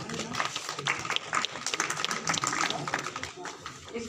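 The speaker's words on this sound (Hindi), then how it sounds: "आप लोग तालियां बजाते रहिए" Audience clapping at a village legal awareness camp in Kamalpur, Sirsa, a scattered crowd applause of moderate loudness that holds steady throughout.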